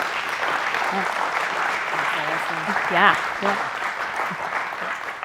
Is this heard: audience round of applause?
yes